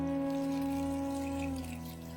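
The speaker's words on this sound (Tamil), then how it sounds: "இப்ப நறுக்கிக்கிட்ட எல்லா மாங்காயவும் தண்ணி ஊத்தி நல்லா வேக வைக்க போறோம்." Water is poured over chopped raw mangoes in a cooking pot, a steady close pour with a resonant, slightly dropping tone that lasts about two seconds.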